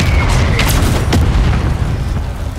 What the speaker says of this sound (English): Requesting mortar strike. Solid copy, mortar strike inbound.